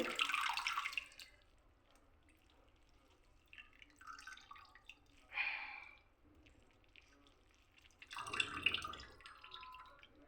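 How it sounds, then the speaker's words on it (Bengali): Blanched spinach squeezed by hand, wet squelches and dripping water in short bursts at the start, middle and end, close and fairly quiet with near-silent gaps between. "এবার আমি হাতে করেই ভালো করে চিপে"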